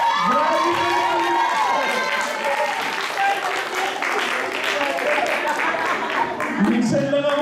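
A church audience bursts into sustained applause mixed with cheering and shouting voices, a dense, loud crowd sound that holds steady throughout, with some speech audible within it.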